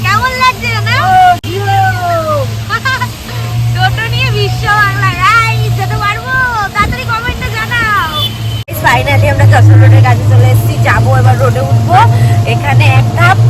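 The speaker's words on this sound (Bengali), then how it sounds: "ট্রাফিক দাঁড়িয়ে আছে অনেক" Rainy road traffic with cars and buses is heard from an e-rickshaw. Steady engine rumble and hum fill the scene under loud, nearby conversation, with a sudden jolt partway through.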